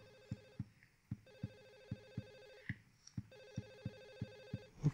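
A telephone rings in Silent Hill 4: The Room, its electronic trill repeating in three long bursts with brief pauses between, steady and moderately loud with no talk over it.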